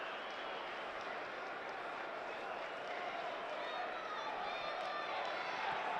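A football stadium crowd at a Premier League match between West Ham and Burnley keeps up a steady, distant roar of restless noise late in the game, with a commentator talking over it.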